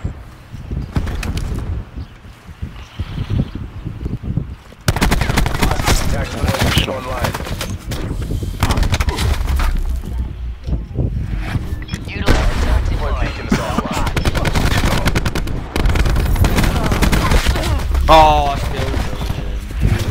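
Shotgun blasts and gunfire in a live competitive video game match ring out repeatedly over dense, loud game noise and excited talk.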